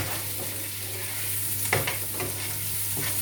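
Seasoned potatoes with salt and black pepper stirred in a hot pan, a steady close sizzle broken by a few scraping stir strokes, one sharper scrape near the middle, no talking.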